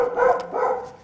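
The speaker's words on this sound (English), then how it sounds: "Sorry about my dogs, they bark all the time." Dogs barking indoors in short repeated bursts, moderately close and fairly loud, with no talk over them.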